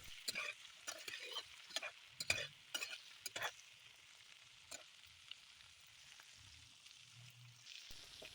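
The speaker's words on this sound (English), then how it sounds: "Add half teaspoon salt and fry it well" Beef brain frying with salt for nihari, faint crackle and clustered stirring scrapes early on, fading to quiet occasional ticks.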